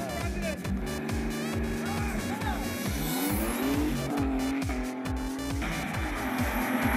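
A turbocharged 2.5-litre BMW E30 3 Series coupe runs at a drag racing event. The engine revs hard through repeated rising sweeps, with sharp shifts between them, loud and close, while a voice talks over it.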